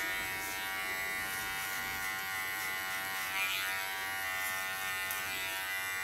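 An electric hair clipper buzzes steadily at close range during a pixie bob haircut, a faint, even hum with slight shifts as it moves through hair.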